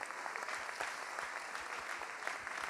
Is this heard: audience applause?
yes